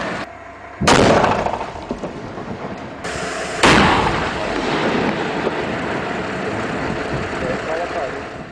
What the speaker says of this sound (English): Blocks of granite are blasted apart from the rock at the quarry